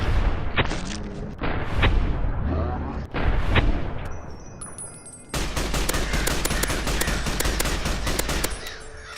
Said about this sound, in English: I'm gonna shoot the Deathclaw for now.